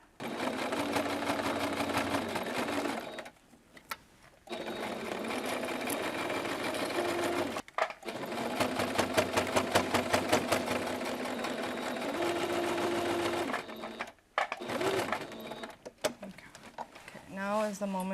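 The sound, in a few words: sewing machine stitching fabric, back tacking then forward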